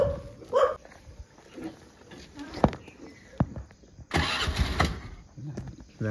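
A motorcycle engine is cranked but fails to catch, giving short uneven bursts of starter noise with pauses between. A dog barks faintly and a voice is heard nearby.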